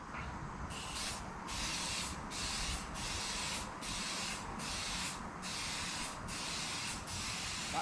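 Cleaner sprayed onto a VW MK5 R32 VR6 turbo engine block in a garage, a close, steady hiss in long bursts broken by brief pauses, with no talking.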